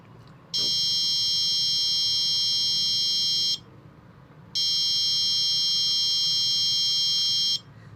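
Two identical long electronic buzzing tones from a sound memory game, each lasting about three seconds, separated by a short gap, loud and harsh with nothing else heard.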